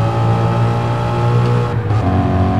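A 650 HP Ford Mustang GT in Gran Turismo Sport runs at full throttle with a lean air/fuel mixture, a loud sustained engine drone that briefly dips near the end, alone without voices.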